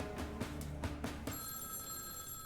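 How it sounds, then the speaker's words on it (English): An old-style telephone bell rings in a mission control room during the Viking lander's descent to Mars, first in quick rattling bursts and then in a sustained bright ring, loud and close with no talk over it. "Suddenly, Jim Martin's phone rings."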